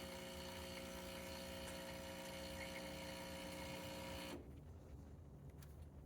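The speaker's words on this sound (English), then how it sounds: "And the boiler filling up the way it should be as well" A 2001 Pasquini Livia 90 SE espresso machine hums steadily as its boiler fills, a loud mechanical drone that cuts off abruptly near the end, leaving a quiet room.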